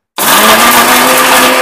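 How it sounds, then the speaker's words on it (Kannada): Mixer grinder whirring loudly as it grinds green chilli chutney ingredients, starting abruptly and running as a steady high-pitched motor drone with no talk over it. "ಎಲ್ಲಾ ಇಂಗ್ರೀಡಿಯೆಂಟ್ಸ್ ಒಟ್ಟಿಗೆ ಹಾಕೊಂಡು ಮಿಕ್ಸಿ ಮಾಡ್ತಾ ಇದೀರಾ?"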